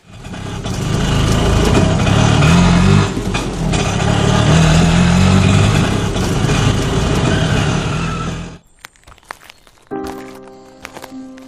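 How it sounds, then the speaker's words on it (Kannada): An auto rickshaw speeding in roars loudly and close for about eight seconds, its engine droning steadily before dropping away sharply, followed by quieter sputters and a lighter engine hum. "ಸರ್ ರಿಕ್ಷಾ ಒಂಜಿ ಓವರ್ ಸ್ಪೀಡ್ ಬರೋದುಂಡು ಸರ್."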